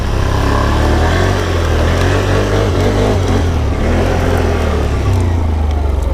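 A 2016 Can-Am Outlander XMR 850 ATV is ridden with its engine droning loud and close, the pitch rising and falling steadily as it travels, with no voices.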